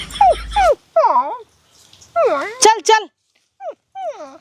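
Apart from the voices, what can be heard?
dog barking and growling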